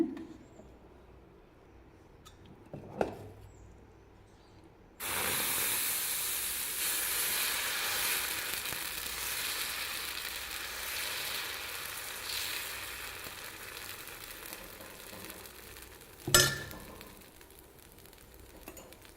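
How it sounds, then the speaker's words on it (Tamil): White sorghum dosa batter hits a hot pan with a sudden, loud, steady hiss that settles into continuous sizzling, with a faint clink before it and a sharp knock near the end. "இப்போ மறுபாதியில் தோசை ஊற்றி காட்டுறேங்க"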